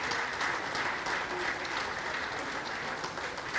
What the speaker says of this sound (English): please add to that applause.